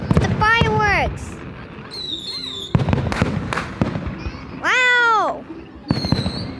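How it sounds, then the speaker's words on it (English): Fireworks go off on the Fourth of July in several separate bursts, with sharp cracks and rising-then-falling whistles, loud and near, some of them mixed with excited voices. "Look, guys! It's the fireworks!"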